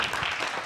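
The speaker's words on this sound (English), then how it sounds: "Give a hand clap over the movie." Audience clapping, a brief dense burst of applause heard at close range.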